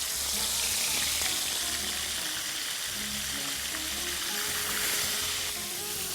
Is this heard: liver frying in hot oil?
yes